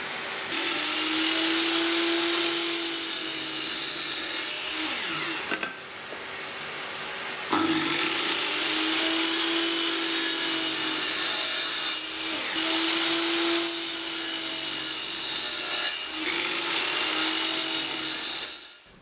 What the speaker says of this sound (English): I adjust my stop block to cut them all right to the same length.